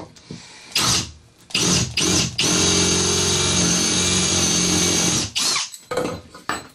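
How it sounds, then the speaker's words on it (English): A Milwaukee M18 Fuel combi drill whirs in several short bursts, then runs for a long steady stretch before a few more quick triggers, loud and close with no talk. "The thing to listen to there was the sound of the drill"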